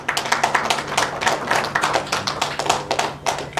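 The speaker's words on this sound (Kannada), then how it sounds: "ಜೋರಾದ ಚಪ್ಪಾಳೆ ಈಗ ಬರಲೇಬೇಕಾಗಿರೋದು" Audience applause at a Kannada film success meet, a loud, dense burst of many hands clapping in quick uneven patter that continues steadily for several seconds, close and lively with no voices.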